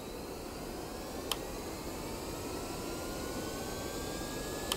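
Airbus A320 jet engines in a flight simulator game spool at takeoff power on departure from Sanya airport, a steady broadband roar with faint rising whine tones, loud and continuous with a couple of brief clicks.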